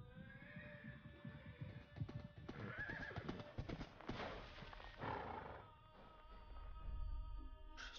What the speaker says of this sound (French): Suis venu en cheval.